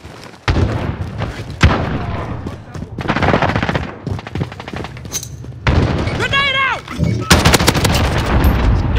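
A grenade blast and heavy automatic gunfire from the Modern Warfare game roar loudly through a chaotic firefight, with repeated booming shots and sustained bursts while game voices shout over the battle.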